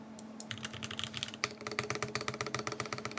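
Typing on a Nyaong 75 mechanical keyboard with Gateron KS3 switches, quick close keystrokes in a steady rhythm, each press a crisp clack, with no talking.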